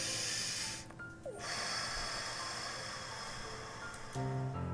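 A single breath drawn in and let out, a soft airy sweep near the microphone over quiet background hiss, followed by a faint low hum.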